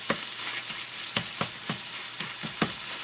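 Cream cheese melting in a hot pan hisses with a steady close sizzle while a spatula stirs it, scraping in irregular strokes about every half second.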